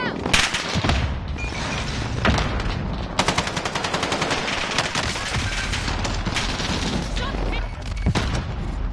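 Rapid gunfire in an online shooter video game on the Caldera map, sustained automatic bursts and booms packed densely throughout, loud and close with game voices mixed in.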